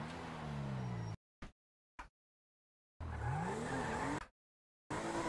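A car in GTA V roleplay drifts, its tires squealing in rising and falling whines over engine noise, broken by abrupt cuts to silence between short bursts.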